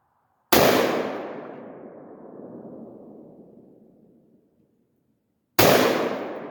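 Two sharp, loud gunshots from a rifle fitted with a Holosun 510c sight and resting on a bipod, each crack followed by a long rolling echo fading over several seconds.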